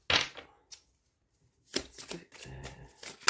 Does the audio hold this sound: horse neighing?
no